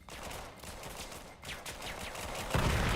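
Rapid gunfire bursts from a VR shooter match in VAIL, with repeated sharp cracks and volleys, some near and some distant, overlapping continuously with no talking.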